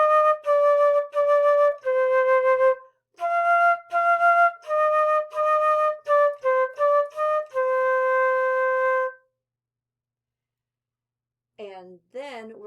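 A flute plays a short lesson melody, a series of clear sustained notes with brief breaks between phrases, close and solo, then silence before a voice briefly starts speaking at the end.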